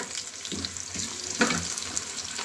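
Ginger frying in desi ghee for a dal tadka gives a continuous hissing sizzle with a few louder crackling spurts, close and steady throughout.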